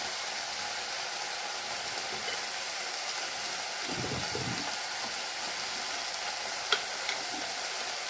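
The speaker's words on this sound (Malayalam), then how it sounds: "സവാള നല്ല വഴറ്റിയെടുത്തിട്ടുണ്ട്." Onions sizzle steadily in a pan with continuous frying hiss, a brief stir around the middle and a couple of faint clinks near the end, close and even throughout.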